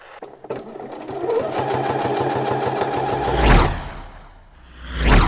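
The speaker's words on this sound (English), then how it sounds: "now we do a line of stitching along this shoulder seam here and along here" A sewing machine stitches a shoulder seam on a summer shirt, running steadily for about three seconds in a fast mechanical rattle, then two brief whooshing handling sounds follow.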